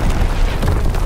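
A dense, booming roar of artillery explosions in Call of Duty WWII, loud and continuous low rumble with overlapping blasts through the whole short moment.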